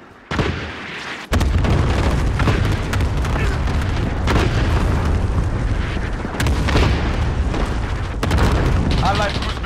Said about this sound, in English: Cluster strike incoming.